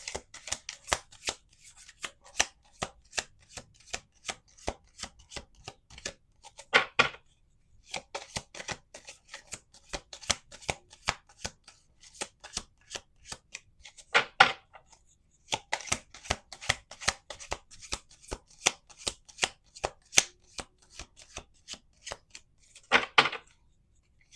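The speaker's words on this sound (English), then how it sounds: "let's do 2 more shuffles" Cards are riffled and bridged repeatedly, rapid crisp flutters in several bursts separated by brief pauses.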